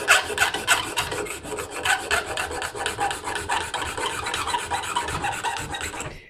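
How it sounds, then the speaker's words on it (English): A square file's point is worked in steady, rapid back-and-forth rasping strokes over metal to cut a triangular profile; the grating sound is close, continuous and dense, stopping abruptly at the end, with no talk. "So I'm just using the point of the free square file"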